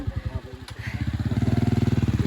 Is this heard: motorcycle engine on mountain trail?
yes